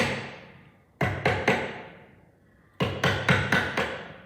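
A hammer taps a chisel during bodywork on a race car project: three sharp metallic taps, a pause, then five more in a quick, even rhythm, close and clear with short ringing decays.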